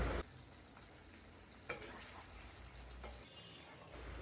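Quiet, continuous sizzle of chicken with yogurt frying in a pan over medium flame, with a couple of brief stirring clinks.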